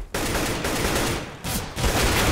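Automatic rifle fire in a professional Counter-Strike match on de_dust, sustained close bursts of gunfire with brief pauses between volleys, loud and dense.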